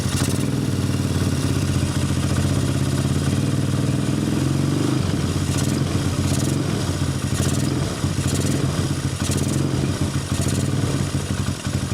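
An Apollo 250cc dirt bike engine runs close by, a loud buzzy drone that steadies, then turns uneven and sputters with clattery rattles as it struggles to hold an idle.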